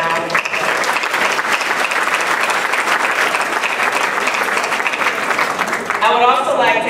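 A gala audience claps in sustained, dense applause filling the room, loud and even throughout, with a speaker's voice resuming at the end.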